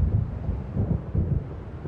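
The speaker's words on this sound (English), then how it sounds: "It seems there's a storm coming." Low rolling thunder of an approaching storm in the video game Alan Wake, a deep rumble that swells and fades in a few waves over windy noise, with no talk.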